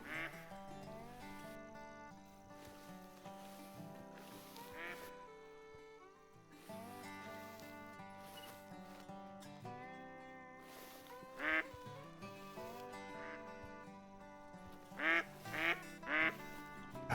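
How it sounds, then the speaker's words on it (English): Ducks quack repeatedly in the hunting video game Call of the Wild at a river crossing, a string of nasal calls rising in bursts, with louder clustered quacks toward the end. "Ducks all around us."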